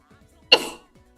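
A single sharp sneeze bursts out abruptly against an otherwise quiet background, close and moderately loud.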